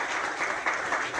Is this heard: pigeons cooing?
no